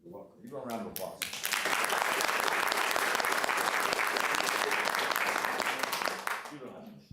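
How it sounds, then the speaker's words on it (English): Audience applause at a city council meeting, a dense sustained burst of many hands clapping that swells quickly, holds steady for several seconds and then tapers off, with a few voices at the start. "Give a round of applause."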